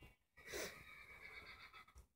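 A horse in the Minecraft video game lets out a single whinny, a breathy rising-and-falling neigh about a second long, fairly faint and heard alone.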